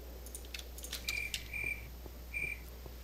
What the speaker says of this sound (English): It's obviously nighttime because all the crickets are chirping.